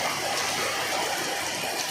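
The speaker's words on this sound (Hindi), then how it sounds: "बहुत तेजी से बारिश हो रही है दोस्तों" Heavy rain pouring down in a village among green fields and running water, a loud, dense, unbroken hiss of falling drops, close and steady, with no talking.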